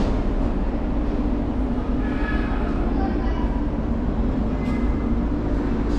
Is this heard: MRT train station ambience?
yes